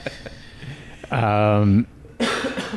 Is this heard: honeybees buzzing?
no